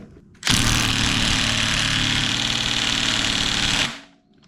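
A pneumatic impact wrench works a sprocket nut on a 2007 Honda CBR600RR, one loud, steady burst of hammering buzz lasting about three and a half seconds, close up with no talk.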